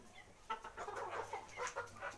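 Faint roosters clucking in short, irregular bursts, a few calls overlapping, heard from a little distance.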